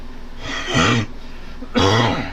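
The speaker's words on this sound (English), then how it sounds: "I am still getting over this cough" Two throaty coughs come a second apart, close and fairly loud, with steady low background noise between them.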